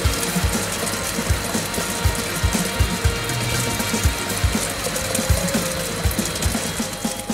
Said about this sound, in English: An initial cold rinse removes any debris, and the water is sent to drain.